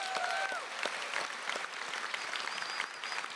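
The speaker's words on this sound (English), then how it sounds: "let's give a round of applause to the great staff at Hancher" Audience applause at a college of public health commencement ceremony, a dense steady clapping from a large crowd that holds evenly throughout with no one speaking over it.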